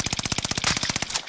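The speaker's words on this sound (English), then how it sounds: "There's shots coming from there." Rapid automatic gunfire in the video game Call of Duty Warzone on the Caldera map: a fast, even burst of about fifteen punchy shots at moderate loudness, with no talking over it.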